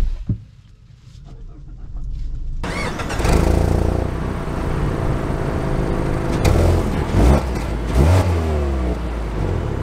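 A 2023 Mazda CX-5 Premium starts and pulls away, engine rising from quiet into a steady close drone with revs climbing and shifting through gears, some cabin rustle and no talk.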